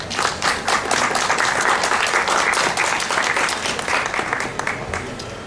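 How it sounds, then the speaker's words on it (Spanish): An audience at a book presentation gives a dense, steady round of applause for the author, loud and continuous throughout with no talk over it. "Saludémoslo con un fuerte aplauso."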